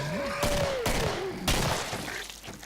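Gunfire in the video game Killing Floor on a farm map, with several sharp shots and bursts over a dense, constant game background.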